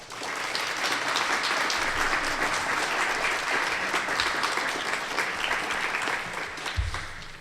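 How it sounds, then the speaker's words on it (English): A seated audience at a Crystal City Council Ward 2 candidates forum gives a steady round of applause that holds at full strength for about seven seconds before thinning. "Let's thank them by giving them a round of applause"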